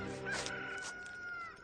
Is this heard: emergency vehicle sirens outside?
no